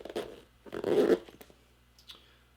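Zippers on a Latitude64 Luxury disc golf bag being pulled open in two short bursts, a quick rasp followed by a longer, louder rasp close by, then a faint click.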